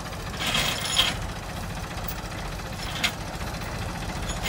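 A Mahindra 265 DI and a Massey Ferguson 35 tractor strain against each other in a tug-of-war, their diesel engines a continuous low rumble with faint clanks, heard from a short distance without talk.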